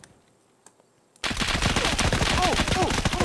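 A sudden burst of rapid automatic gunfire erupts in an Escape From Tarkov firefight after a quiet moment, continuing as a dense, loud spray, with a voice speaking over it.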